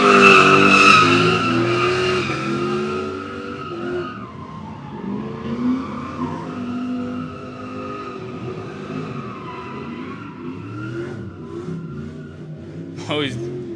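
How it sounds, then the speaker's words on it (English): A Lexus spins through donuts at a live drifting event in Mexico, its engine revving hard and tires squealing in a long skid, loud and close, while people talk and shout around it, ending in a sharp screech. "Lexus is doing donuts"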